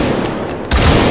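Gunfire from a firearm in the VR shooter H3VR, two loud, sharp reports close together, the second heavier and booming, with no talk.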